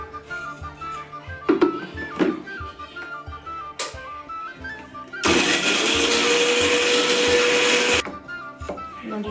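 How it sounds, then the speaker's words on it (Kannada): A kitchen mixer grinder grinds cardamom, cloves and fresh coconut for a sweet potato kheer, a loud whirring roar for a few seconds amid clatter and background music. "ಈಗ ಇದನ್ನು ಗ್ರೈಂಡ್ ಮಾಡ್ಕೊಂಬರೋಣ"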